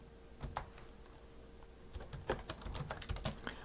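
Typing an address on a computer keyboard while making a label, a quiet run of irregular clicking keystrokes close by, alone without any talking.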